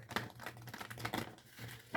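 Someone shuffles a Wisdom Oracle card deck, giving a quiet, close run of papery riffling and soft card taps, with a brisker snap of cards at the end.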